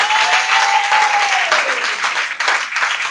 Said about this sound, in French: Est-ce qu'on peut acclamer très fort pour nos parents aussi ce matin?